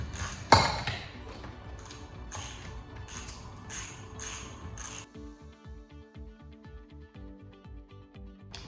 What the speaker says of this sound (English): So we've got 13mm socket just for the end of the plastic or the Bakelite end cap there. Let's break those nuts.